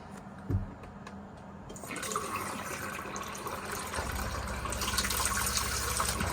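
Water runs from the sink tap in an Auto-Trail Tribute Sport 615 motorhome. After a soft knock, the flow comes on as a steady hiss and splash that grows fuller and louder as it keeps running nearby.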